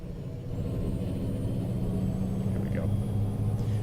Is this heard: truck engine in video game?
yes